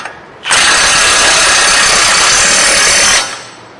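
Ratchet wrench running a new front hub bearing nut clockwise onto a first-generation Dodge Durango, a dense continuous whirring ratcheting burst lasting about three seconds, loud and close with no talking.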